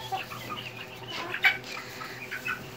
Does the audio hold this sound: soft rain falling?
no